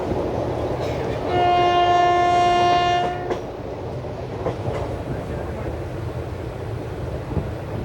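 The Mangaluru–Mumbai Superfast Express slows to enter Jokatte station, a long loud horn blast sounding for about two seconds over the steady rumble and clatter of the moving train.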